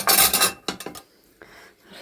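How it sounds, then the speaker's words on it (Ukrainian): Dishes and cutlery clinking and rubbing as they are dried by hand with a towel in a home kitchen, a dense rattle at first, then a few sharper knocks trailing into quiet handling. "зараз беру полотенечку і займаюся посудою"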